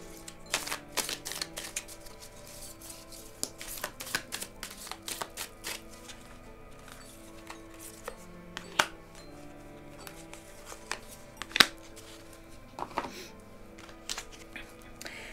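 Oracle cards for a tarot reading are shuffled and handled, producing dense quiet flicks and taps with a few sharper snaps, close by over a soft background.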